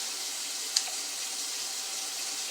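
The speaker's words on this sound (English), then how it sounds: "Always rinse your shears off before you use them." Kitchen shears are rinsed under a running tap in a home kitchen, giving a steady, even hiss of flowing water with one brief clink partway through, and no talking.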